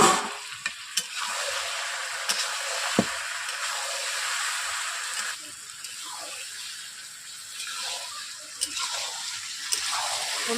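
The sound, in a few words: chicken curry cooking covered in a kadai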